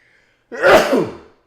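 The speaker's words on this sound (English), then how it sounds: "I'm gonna sneeze." A single loud, close sneeze from a person during a chess stream, a sharp burst that swells and fades over under a second with no talk around it.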